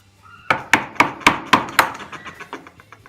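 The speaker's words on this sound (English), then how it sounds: "Now I need to use a chisel to remove that waste there." A chisel knocks out waste wood from a bridle joint rail for a stool, giving a run of about six sharp, evenly spaced strikes followed by fainter taps, close and clear with no talking.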